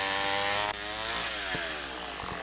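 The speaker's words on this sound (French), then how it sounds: "on fait un trait de scie sur le dos du demi-tronc" A chainsaw revs high and then bites into a cedar half-log, its engine pitch dropping and wavering as it cuts, loud and close.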